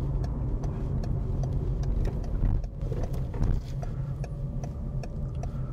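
A car with an automatic transmission driving along, its engine a low steady hum heard from inside with faint ticking over the top and a brief dip in level partway through, with no speech.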